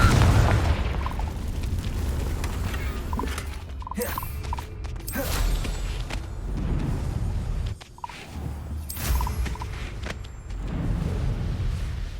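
Confringo spell blasts in Hogwarts Legacy, heavy booming explosions and bursts with creaking mechanical rumble, several heavy impacts spread across a loud, dense game soundscape.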